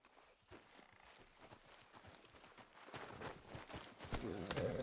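Horse hooves clip-clop at a walk in Red Dead Redemption 2, a steady rhythmic patter that grows louder and busier toward the end, heard faintly and mixed with background game sound.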